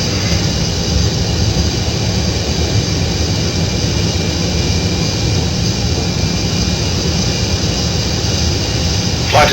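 Steady, loud jet engine roar from a Boeing 787 airliner in a flight simulation game, a constant broadband drone holding unchanged throughout with no voices.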